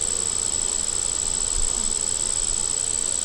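Honeybees drone in a dense, continuous buzz at an open hive during an inspection, close and steady throughout with no pauses.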